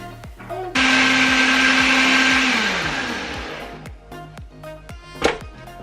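A blender whirs loudly for about two seconds as it purees tomatillo salsa until smooth and liquid, then winds down; afterward come a few scattered clicks and knocks, with one sharp clatter near the end.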